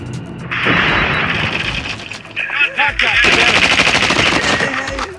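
Rapid automatic gunfire and booming shots from the Call of Duty Mobile video game, loud and nearly continuous bursts with brief gaps, a faint voice briefly under the shooting.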